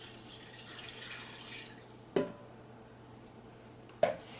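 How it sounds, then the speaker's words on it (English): Chicken broth being poured from a cup into a pot for pressure-cooked neck bones, a soft liquid splash at the start followed by two sharp clinks against the pot. "And I'm just going to pour 1 cup of chicken broth."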